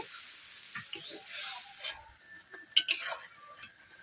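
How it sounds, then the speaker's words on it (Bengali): A spoon stirs mustard paste into a catla fish curry in a pan, making soft scraping and a few sharp clinks against the metal, close but quiet, with no speech. "সর্ষে দেওয়ার পরে এভাবে আমি নেড়ে নিচ্ছি"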